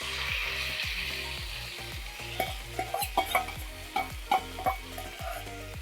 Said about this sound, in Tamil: லிவரை உள்ளே போட்டுட்டு நல்லா அதை கிளறி விடணும்.